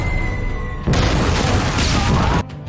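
A cart loaded with giant firecrackers explodes in a kung fu film: a sudden loud boom bursts into a sustained crashing roar for about a second and a half, then cuts off.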